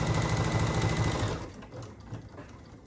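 A home sewing machine stipple-quilting a quilt runs in a fast, steady rhythmic whir that stops about halfway through, leaving quieter handling and soft clicks.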